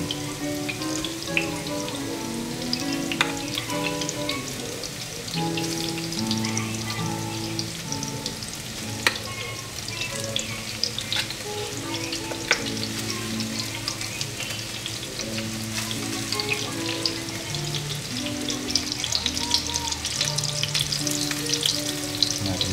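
Cooked rice frying in a hot pan with a dense, steady sizzle and frequent scraping clicks of a utensil stirring it, close and continuous, while music plays softly underneath.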